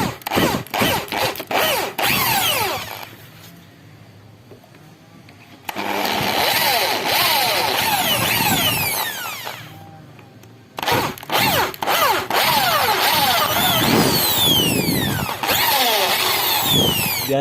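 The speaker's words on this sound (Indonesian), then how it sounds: "kita gunakan mata bor 8 mili dulu ya" Power drill boring with an 8 mm bit into a worn motorcycle step bolt mount, whining loudly in bursts with a few seconds of pause between runs, close up and without talk.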